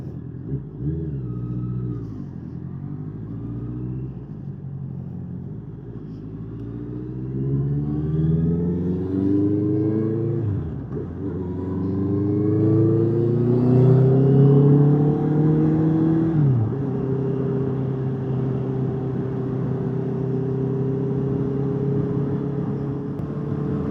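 A heavy 205 kg Honda CB500 motorcycle hums and revs as it rides through a traffic jam, pitch rising and falling through gear changes, steady and close throughout.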